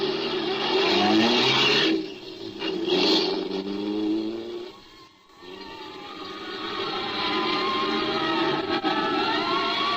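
Fire engines and police cars streaking through city streets in an old radio drama, a loud continuous roar of engines with rising, sweeping tones that dips briefly midway before surging on.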